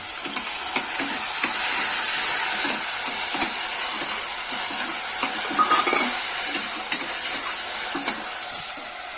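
Tomatoes sauté in hot sesame oil with rock salt for a chicken gravy, giving a steady sizzle and hiss throughout, broken by repeated scraping and clicking as a spoon stirs the pan.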